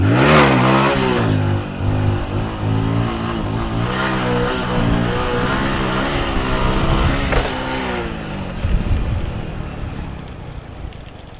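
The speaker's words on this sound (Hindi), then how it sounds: "उसके बाद तुरंत गियर शिफ्ट करके क्लच का यूज़ करके उसके बाद तुरंत एक्सीलेटर को रेस करना है" A motorcycle engine revs hard and climbs through rising pitch during a gear-shift wheelie, with a clutch-and-gear change before the throttle is opened again; loud and close throughout, no talking.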